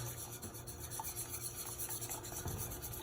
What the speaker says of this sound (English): you just whisk it in